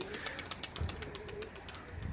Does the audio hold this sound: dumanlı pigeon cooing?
yes